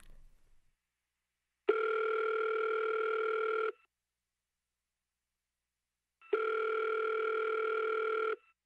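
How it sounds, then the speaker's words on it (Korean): A telephone dial tone sounds while a call is being placed, with two steady electronic tones each lasting about two seconds and separated by silence, clear and close. "내가 전화 연결해 볼 테니까 한번 받아보세요"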